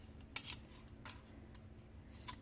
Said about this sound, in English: This is me trying to scrape all the gochujang sauce.